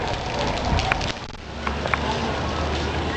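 Rain falls at the Imperial City, the Forbidden City, as a steady broadband hiss with scattered spatters and a few sharper clicks and knocks close by.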